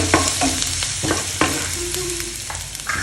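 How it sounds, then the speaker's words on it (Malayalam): Chopped ginger and garlic fry in a hot pan with a steady sizzle, while a spoon scrapes and stirs them in short, repeated strokes close by. "ഇഞ്ചിയും വെളുത്തുള്ളിയും ചെറുതായിട്ട് അരിഞ്ഞതും കൂടി ചേർത്ത് കൊടുക്കുക. ആദ്യം ഇതിനൊന്ന് മൂപ്പിച്ചിട്ടെടുക്കുക."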